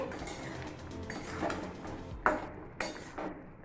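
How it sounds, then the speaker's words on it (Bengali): A pot lid comes off a simmering pot of Bengali dudh shukto and the contents are stirred, giving a few sharp metallic clanks and scrapes over a steady kitchen hiss, with no voices. "পাঁচ মিনিট পর ঢাকাটা খুলে নিচ্ছি আবারও একটু নাড়াচাড়া করে নিয়ে"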